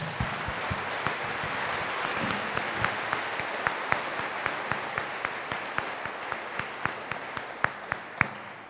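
An audience applauds at the opening ceremony of a 2018 robotics district championship, producing a steady wash of clapping with individual sharp claps standing out, moderately distant and sustained throughout.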